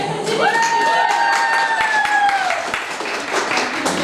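Audience applause and cheering, dense clapping mixed with shouts and a drawn-out voice calling out, steady and close throughout.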